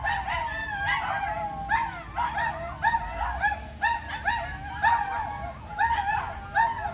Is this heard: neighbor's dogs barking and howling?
yes